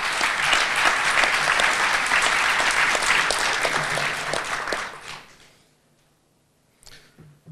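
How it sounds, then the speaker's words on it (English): Loud applause from a conference audience welcoming the general chairman at an IEEE COMCAS 2013 opening session, sustained for about five seconds before tapering into near silence. "Please welcome, with a big round of applause"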